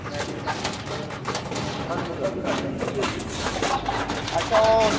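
Sabz cheena and bajri pigeons, old rare breeds, coo softly in the background while someone talks over them, with low murmuring bird sounds throughout.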